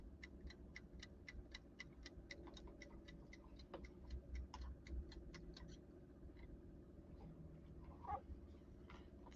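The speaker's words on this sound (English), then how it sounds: "Ticking." Steady, evenly spaced ticking from the mechanical timer dial of a home kitchen appliance, running throughout at a quiet, close level over a low background hum, with no talking.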